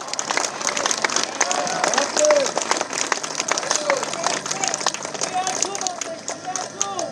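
Dense crowd applause at an Armenian political rally, steady clapping and cheering spread across the whole stretch with a loud, sustained wash of hands.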